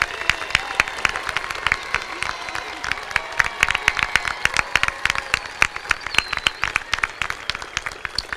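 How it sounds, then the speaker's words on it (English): Steady, dense applause fills a high school graduation ceremony hall as the audience claps for the class of 2019, sustained and even throughout with faint crowd murmur beneath. "Turn and applaud those that supported you, care about you,"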